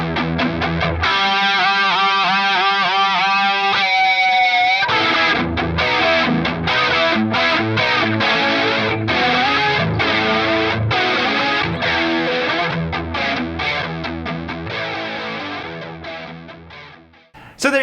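An electric guitar plays through distortion and two effects pedals for a lush 1980s-style tone. Sustained chords open the passage, then a loud, busy run of picked notes follows, shimmering with chorus-like effects and no talk.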